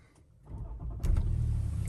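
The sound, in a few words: Range Rover engine starting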